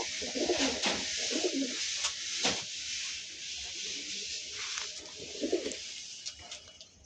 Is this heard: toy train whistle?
no